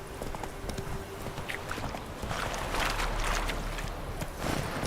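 Hooves of Roach the horse in Witcher 3, a steady clip-clop of gait over a windy outdoor ambience, with brief bright rustles.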